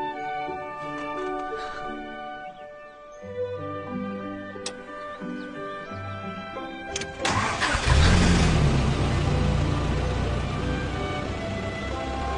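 A Jeep's engine cranks and starts after a few clicks, then roars as the accelerator is pressed, settling into a loud steady rev close by; faint voices come before it.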